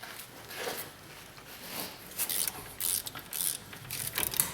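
Socket ratchet clicking in short, uneven bursts while turning the wheel hub bolts behind the steering knuckle of a Dodge Stratus during a front wheel bearing replacement, close and moderately loud with brief pauses.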